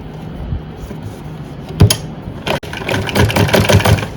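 A sewing machine stitches a suit: a short burst of needle clatter, then a steady, close, rhythmic run of stitching that grows louder, with no talking.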